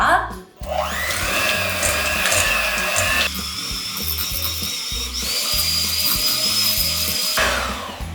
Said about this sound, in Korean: 요거를 기계를 이용해서 부드럽게 저속으로 풀어볼게요.